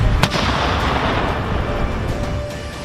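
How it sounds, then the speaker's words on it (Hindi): Missile strikes and artillery fire in Donetsk during the Russia-Ukraine war, a loud sharp blast followed by a dense rumbling roar that sustains and slowly fades. "रूस ने खुफिया इनपुट की जानकारी पर ऐसा भीषण मिसाइल हमला किया है जिसमें ज़ेलेंस्की के बेहद करीबी टॉप 7 अफसर"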